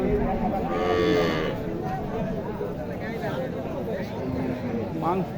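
A dairy cow moos loudly and at length, close up, amid the general hubbub of a crowded cattle market at Mataji Haat in Naogaon, with people talking nearby.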